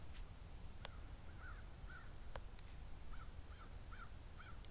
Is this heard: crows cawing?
yes